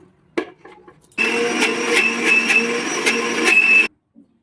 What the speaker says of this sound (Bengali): দিয়ে এবার মিক্সার গ্রাইন্ডারে